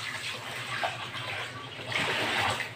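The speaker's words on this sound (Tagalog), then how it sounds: "Isang pitcher guys o. Yan, tubig." Water pours and splashes steadily into a pitcher, a close, continuous gushing trickle that swells toward the end, with no talking over it.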